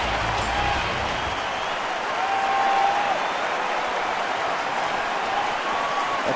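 A baseball crowd of over 35,000 at a Mets–Brewers game in Milwaukee stands and cheers with sustained applause, a dense steady roar filling the whole stretch without letup.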